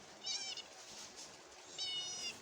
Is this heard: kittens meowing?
yes